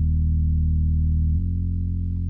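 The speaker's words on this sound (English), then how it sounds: "I didn't show the intro bass. It was a really simple one. It sounds like this." Simple synth intro bass from an EDM track, a loud sustained low droning tone that holds one note, then shifts to a slightly different pitch partway through with a subtle pulsing texture.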